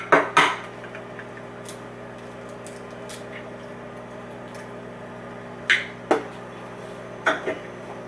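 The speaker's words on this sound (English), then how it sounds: "I'm going to crack 3 eggs into the food processor with the bananas" Three eggs cracked into a food processor holding bananas: three pairs of sharp clicks spaced seconds apart, each a tap against a hard rim and a quick follow-up, close by in a quiet kitchen with a faint steady hum.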